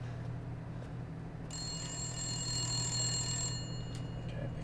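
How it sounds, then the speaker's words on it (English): A telephone rings in the horror game Resident Evil Village: a bright, sustained trilling ring cuts in over a quiet low ambient hum and holds for a couple of seconds. "Okay, pick up the phone."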